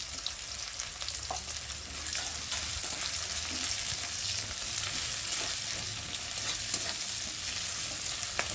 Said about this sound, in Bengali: আর এখন আমি পেঁয়াজ দিয়ে দেবো, আর দেবো কটা কাঁচা লঙ্কা